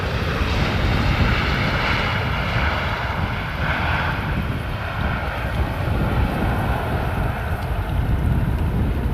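An airliner touches down on the Polderbaan runway at Amsterdam Schiphol, with a loud, steady roar of jet engines and rushing wind noise throughout.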